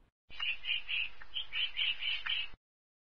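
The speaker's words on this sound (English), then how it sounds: "Woodpecker." Woodpecker calling, a clear series of short, sharp, high chirps repeated in a quick, even rhythm for about two seconds, heard alone against silence.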